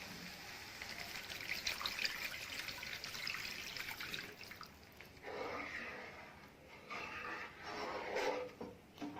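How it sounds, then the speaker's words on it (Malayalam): Cornflour mixed with water pours into a pan of garlic chicken sauce, giving a steady watery trickle and splash that swells and fades over several seconds, moderately close and without talk. "നമുക്ക് ഇതിലേക്ക് കോൺഫ്ലോർ മിക്സ് ചെയ്ത വെള്ളം ഒഴിച്ചു കൊടുക്കാം"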